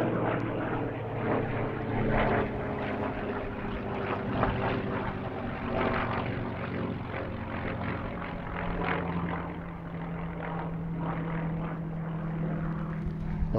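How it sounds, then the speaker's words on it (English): A Spitfire flies overhead with a continuous droning propeller-engine roar, steady and fairly loud throughout, over outdoor background noise with no talking. "I think this is my Spitfire."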